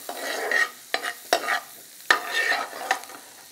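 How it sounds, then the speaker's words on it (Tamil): Chopped onion and garlic sauté in butter and olive oil, a soft sizzle broken by several sharp stirring scrapes of a utensil against the pan, close and with no talk. "இதெல்லாம் போட்டு கொஞ்ச நேரம் வதக்கணும்."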